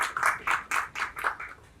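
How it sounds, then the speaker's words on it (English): Applause from an event audience at a hotel function, rising in several bursts of clapping with brief dips between them, moderately loud and fairly close. "A big round of applause to the Leela Hotels."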